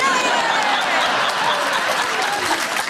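A studio audience at a comedy quiz show claps loudly and steadily for a few seconds, a dense close wash of applause with a hint of laughter.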